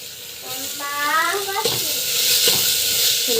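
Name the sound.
spices and onions being sautéed and stirred in a pan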